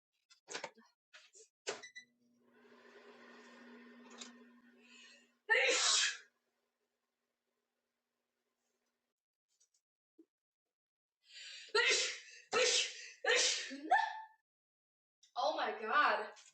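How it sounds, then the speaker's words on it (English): A person has a sneezing fit, several loud, close sneezes spread across a quiet stretch with faint breathing between them, ending in a rapid cluster of sneezes. "I'm going down, down with sneezes around"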